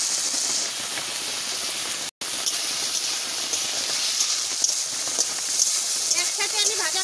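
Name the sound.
potatoes and onions frying in hot oil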